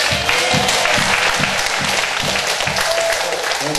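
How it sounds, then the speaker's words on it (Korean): A church congregation claps at an evening revival service, loud sustained applause from many hands filling the whole stretch, with a faint rhythmic pulse beneath. "우리 하나님께 영광의 박수 드리겠습니다"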